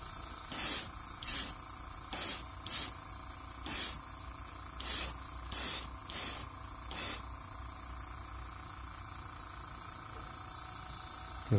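Short bursts of an airbrush laying a coat of orange paint onto an MB S Crank, roughly nine separate hissing sprays in an uneven rhythm over the first seven seconds, close and clear, followed by quiet.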